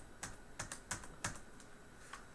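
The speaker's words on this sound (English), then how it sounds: "We type in 10 million here" Brisk computer keyboard typing as numbers are entered, around eight quick close keystrokes in a fast, slightly uneven run over steady low background hiss.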